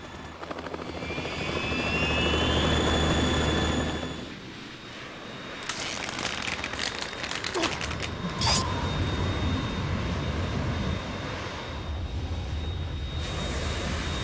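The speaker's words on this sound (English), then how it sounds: "Vampire flying a Harrier. We're in trouble. It's the Harrier." A Harrier jet from Metal Gear Solid 2 roars overhead in a sustained loud whooshing engine drone with metallic creaks and mechanical clanks, swelling and fading with a few sharp bursts.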